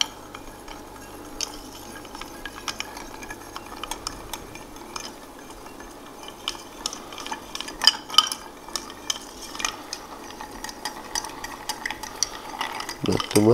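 A cocktail is stirred at a bar with a spoon against ice in a glass, producing faint, scattered clinks and light rattles over a quiet background, growing busier toward the end.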